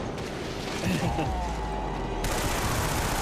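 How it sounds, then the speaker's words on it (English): Sustained rapid submachine gun fire in the Killzone 3 video game, a dense continuous burst with clanking mechanical sounds, loud and close throughout. "I have the submachine gun from Killzone 2 now. Still an excellent weapon."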